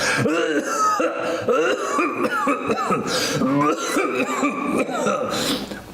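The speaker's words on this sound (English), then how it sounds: "How long have you had that cough?" A man coughs and clears his throat repeatedly in rough, hacking bursts, close and loud, mixed with strained vocal sounds.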